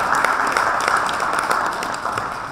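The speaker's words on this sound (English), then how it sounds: "So a big round of applause for every overseas individual" Audience applause at a formal function honoring overseas workers, a steady wash of many hands clapping throughout, moderately loud and without talk.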